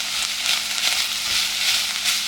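Minced garlic fries in a pan for a one-pot Greek rice and cabbage dish, a loud continuous sizzle with gentle swells as it is stirred, no voices.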